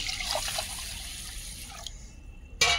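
Water trickles and splashes steadily into a bowl of basmati rice set to soak for chicken biryani, a soft continuous pour that stops shortly before a brief clatter at the end.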